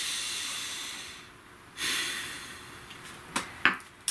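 A single deep inhale lasts about a second and a half, followed by a few short, sharp breathy puffs and sniffs. All of it is close and soft in a quiet room, with no talking.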